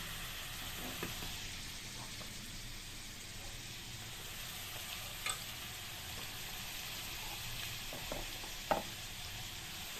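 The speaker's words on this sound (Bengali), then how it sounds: "ভালো করে কষিয়ে নিচ্ছি" A spice paste with lightly fried potatoes sautés in a pan for a Bengali potato and pointed gourd curry, with a soft continuous sizzle and a few faint scrapes and clinks of stirring.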